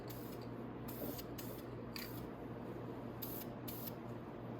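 Spray painting a Venom 250cc chopper part in green, short hissing bursts of the spray can repeating at irregular intervals over a low steady hum, close and without talk.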